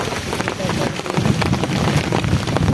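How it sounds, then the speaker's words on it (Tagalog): Heavy rain pounds steadily on a tent during a thunderstorm at an overnight hunting camp, a dense continuous wash of drops with gusty wind buffeting, while a voice speaks intermittently over the downpour. "lumakas ang ulan"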